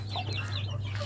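A broody hen clucks in short, soft bursts at close range over a steady low electrical hum.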